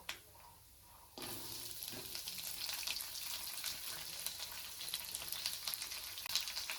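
Puli ponganalu batter fries in a pan, a soft steady sizzle with faint crackles that starts after a quiet opening second and continues evenly at low volume.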